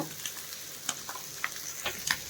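Egg roast frying in a pan with garam masala, a quiet steady sizzle with scattered small crackles and pops, heard close with no talking.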